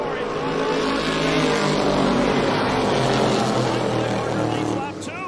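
NASCAR Weekly Series stock cars race through turns 3 and 4 at Jennerstown Speedway, a loud, continuous engine roar that swells and fades as cars pass close by.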